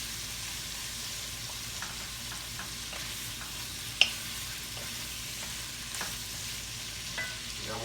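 Vegetables for a smothered pot roast sizzle steadily in the bottom of a big pot, with occasional soft stirring clinks and scrapes at close range and no talking.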